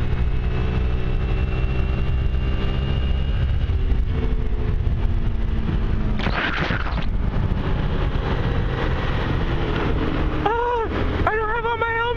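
A Honda Elite NHX110 scooter drones steadily while being ridden, its engine hum mixed with heavy wind rush and a few short bursts of noise near the end.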